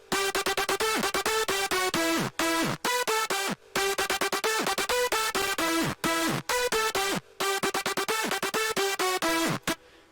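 Synth lead processed with EQ and Camel Crusher distortion, playing a loud, bright run of rapid staccato notes with pitch drops, in repeated phrases broken by brief gaps.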